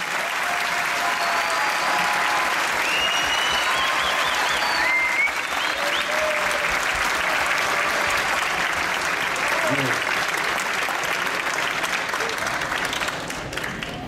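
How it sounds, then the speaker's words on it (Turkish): Sustained audience applause at a municipal youth orchestra and choir concert at a commemoration program, a dense steady wash of clapping held loud for about thirteen seconds before it starts to thin, with no talking over it. "Daha kuvvetli, daha coşkulu alkışlarınız efendim lütfen."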